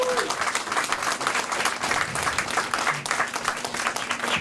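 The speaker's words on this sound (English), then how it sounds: "A round of applause for the volunteers," Steady applause rings out from a crowd at a political by-election campaign rally in Calgary, honouring the volunteers; dense, even clapping holds throughout at moderate loudness.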